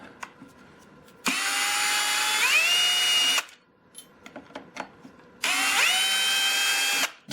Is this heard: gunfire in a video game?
no